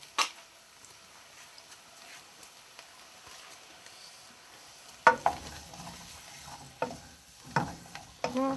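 Carrots cooking with rosemary and garlic in a pan over low heat give a faint, gentle sizzle, broken after the midpoint by a few soft clinks and stirring knocks.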